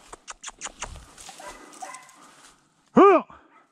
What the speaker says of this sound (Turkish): Geri döndü galiba. Köpekler geliyor.